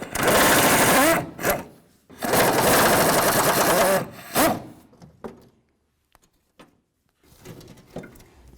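Transmission mount bolts are removed on a 2007-2017 Jeep Compass, driver's side. Two long, loud bursts of a rapid ratcheting power tool are followed by shorter spurts and faint clicks, close up.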